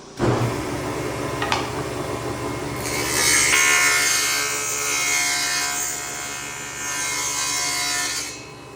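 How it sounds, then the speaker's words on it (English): Saw cutting dadoes in wood for a drawer build: a sharp knock, then a sustained, loud rasping cut that swells and eases in two long passes, close by with no talk. "So I got the saw set already, laid that on, and got it moved over where it needs to be."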